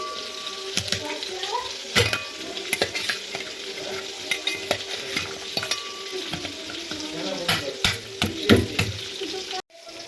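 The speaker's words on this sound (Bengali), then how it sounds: "এখানে দেখো আমি মুগ ডালটা ভাজতে দিয়েছি, আর একটু তেজপাতা দিয়ে ডালটা ভাজছি।" Mung dal and a bay leaf frying dry in a pan, a soft sizzle broken by repeated scrapes and clacks as a spoon stirs against the metal.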